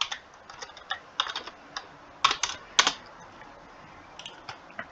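A computer keyboard is tapped while text is entered in an app-building tool, irregular clusters of crisp, close keystrokes with brief pauses between bursts, alone without speech.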